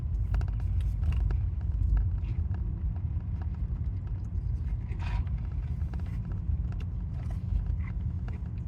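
A car rolling slowly through a campground at Big Lake, Arizona, a steady low engine and tyre rumble from inside the vehicle with faint crunching, no speech.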